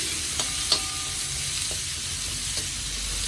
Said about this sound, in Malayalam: ഇനി സവാള ഇട്ട് കൊടുക്കാം. സവാള ചെറുതായിട്ടൊന്ന് മൂക്കണം.